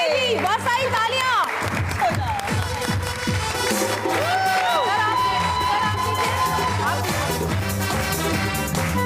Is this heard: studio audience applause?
yes